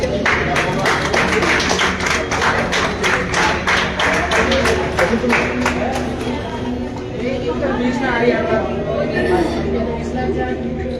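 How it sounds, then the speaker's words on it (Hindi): Loud, sustained applause for students at a school event, a dense burst of many hands clapping that starts strongly and then thins, with crowd chatter underneath. "बहुत तालियां जोरदार बच्चों के लिए।"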